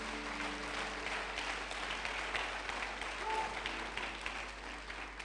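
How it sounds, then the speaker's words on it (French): A church congregation claps and cheers during a sermon, a dense, steady wash of applause heard from within a large room, moderately faint with a low hum beneath. "Acclame très fort si tu es connecté à ces choses."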